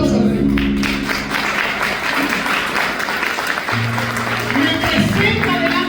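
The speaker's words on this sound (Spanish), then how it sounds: "Den un fuerte aplauso al Rey." A church congregation breaks into sustained, loud applause for the King during a sermon, dense clapping that runs steadily throughout with voices and low musical tones mixed in.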